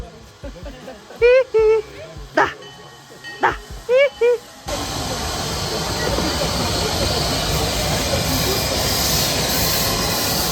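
A locomotive backing up at a station, first with quiet pauses broken by short voices, then a sudden continuous loud hiss and rumble of the moving train dominating the rest.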